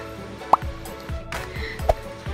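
Water dripping in a few distinct drops while makeup is removed with clear water, two clear plops against a low background hum.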